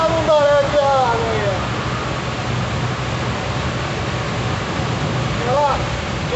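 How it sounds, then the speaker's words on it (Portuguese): Heavy rain pours down on a car driving along a highway in Goiás, a steady loud hiss of water drumming on the vehicle, with brief voices speaking over it near the start and end. "Aquela chuva com vontade"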